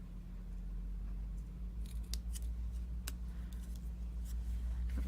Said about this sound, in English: I'm just going to Benner cut these two pieces